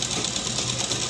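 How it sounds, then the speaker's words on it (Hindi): A sewing machine runs a continuous stitch around the circular edge of umbrella fabric, giving a steady close-up whirring hum with even mechanical texture for about a second. "इसी तरह से हम पूरे राउंड पे सिलाई लगा लेंगे।"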